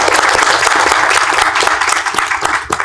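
Loud, close applause from an audience at a film festival press event in Melbourne, dense overlapping clapping with no talk over it.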